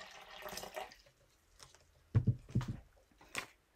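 Chemical water pours into a blender while print paste is mixed for deconstructed screen printing, giving a few short, close splashing and gurgling bursts in an otherwise quiet room.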